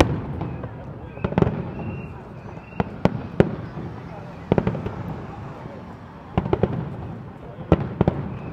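Fireworks at the Macau International Fireworks Display Contest pop and crackle in scattered sharp bursts over a steady background rumble, with faint voices in the crowd.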